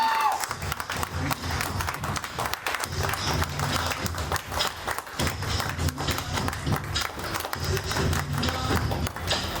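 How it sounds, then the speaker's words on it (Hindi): A crowd at an honoring ceremony during a company award event applauds strongly, a continuous dense clapping wash with cheering and voices mixed in throughout. "सम्मानित के समय आप जोरदार ताली बजाई सकते हैं।"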